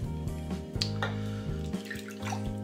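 Tap water runs steadily while a traditional wet shave is being set up, a soft continuous flow over a low steady hum with a few faint clinks, fairly quiet and close.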